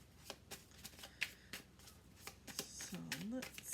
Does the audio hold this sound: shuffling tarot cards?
yes